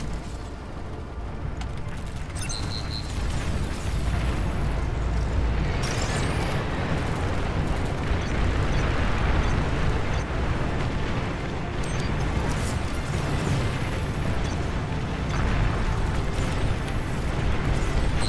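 Bombs detonate in the strategy game Beyond All Reason, heavy booming blasts that crack in sharply, then a long roaring, rumbling wash of overlapping explosions and battle noise, loud throughout.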